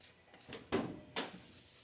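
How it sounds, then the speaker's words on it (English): A car door opens nearby, with a soft latch click followed by two quick, quiet thunks and a brief rustle. "open up the door so we can get some more lighting in it"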